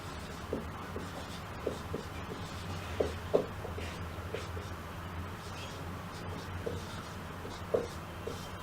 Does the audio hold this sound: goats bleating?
no